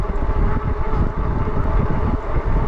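A Jasion Hunter Pro e-bike rides under throttle while being pedaled, a constant loud rush of wind buffeting the microphone over a low motor drone, with no speech.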